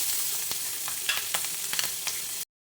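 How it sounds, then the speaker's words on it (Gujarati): Chopped green chillies dropped into hot oil with cumin and asafoetida on a lowered flame, a close steady sizzle with crackling pops and stirring scrapes, then an abrupt stop. "હવે ગેસની ફ્લેમ થોડી સ્લો કરી અને કટ કરીને રાખેલા મરચાં ઉમેરી દઈશું।"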